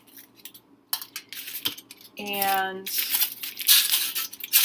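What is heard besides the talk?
crumpling used aluminum foil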